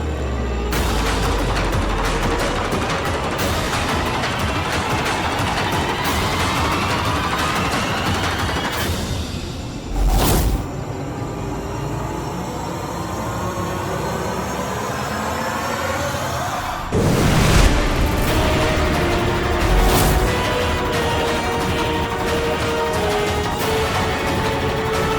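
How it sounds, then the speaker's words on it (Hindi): Gunfire sound effects in a TV fantasy drama: sustained rapid bursts of shots and booms run throughout, loud and dense, broken by two sharp blasts, with no speech. "पूर्जो, चला गोली"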